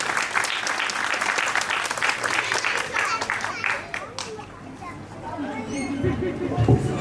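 An audience applauds students at a school's annual event in India, a steady wash of clapping with crowd chatter and children's voices mixed in, fading slightly toward the end.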